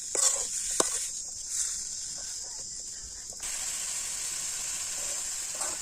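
Onions, green chillies and tomatoes sizzle steadily in hot oil in a pan with a constant hiss, close by, broken by a few sharp clinks of stirring.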